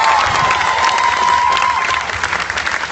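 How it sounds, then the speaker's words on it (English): A festival audience at a Renaissance fair author event applauds with dense, continuous clapping and some cheering throughout, loud and close, with no talking over it. "And another round of applause for Diana."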